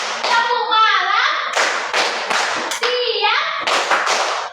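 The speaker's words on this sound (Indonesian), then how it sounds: "Tepuk satu akan Ibu ganti dengan tepuk pagi, siang, dan malam." Children in a classroom clapping game beat out loud, sharp hand claps in uneven bursts, mixed with their sing-song chanting voices close by.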